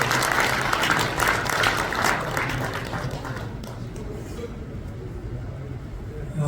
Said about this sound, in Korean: 다시 한번 우리 건강하시라고 박수 한번 보내드리겠습니다